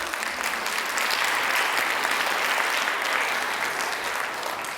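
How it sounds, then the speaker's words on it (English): Full, even applause from a pageant audience cheering the contestants of the Miss Indian UNM Pageant, a dense wash of clapping held at steady volume throughout. "let's give the ladies a big round of applause."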